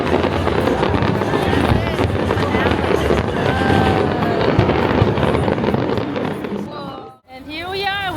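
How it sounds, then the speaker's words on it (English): Fireworks over the lakefront at Chicago Navy Pier: a dense, continuous roar of bursts and crackle mixed with crowd noise and wind, with people talking and exclaiming throughout and a brief dropout near the end. "We ended the night with fireworks."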